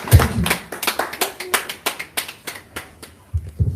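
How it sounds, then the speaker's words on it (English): Audience applause after a speech by a dignitary at a Nigerian public event, a sparse, uneven run of distinct handclaps, fairly close and moderately loud, with no speech over it. "another round of applause for His Excellency."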